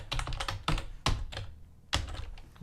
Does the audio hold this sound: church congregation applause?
no